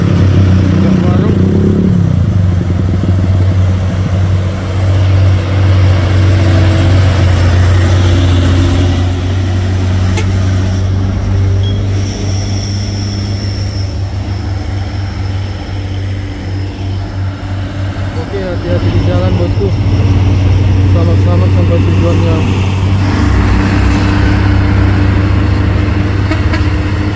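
Hino and Isuzu diesel box trucks rumble with a deep, steady engine drone, swelling and easing as they pass close by, while people talk over the noise.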